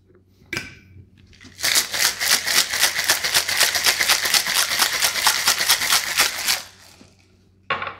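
A cocktail shaker packed with ice, tequila and plenty of bitters, enough for two drinks, rattles loudly for about five seconds in a dense, rapid rhythm. Short clinks come before and after the shaking.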